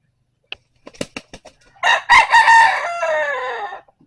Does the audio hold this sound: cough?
no